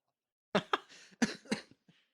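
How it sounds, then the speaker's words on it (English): A few short, harsh coughs in quick succession from someone getting over a cold, close to the microphone, followed by a faint final cough, with silence around them. "every time I laugh, I want to cough"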